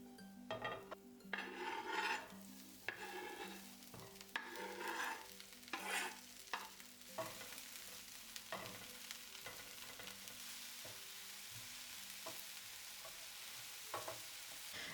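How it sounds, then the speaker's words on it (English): Mushrooms and cabbage sauté in oil in a pan, with repeated scraping and stirring strokes over a steady soft sizzle, close and fairly quiet. "Added a bit more oil and sauteed the chopped mushrooms for a minute. Then I added the cabbage and cooked until it browned."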